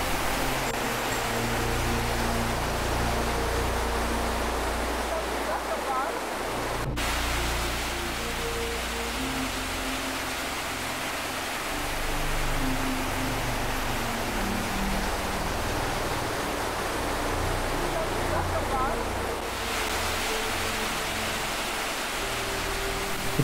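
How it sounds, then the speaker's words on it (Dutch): A small waterfall, the Netgang Øvstebro Foss in Norway, gives a steady, even rush of falling water that holds at the same level throughout, with no voices. "We maken een korte stop bij een watervalletje om even te ontspannen. De Netgang Øvstebro Foss."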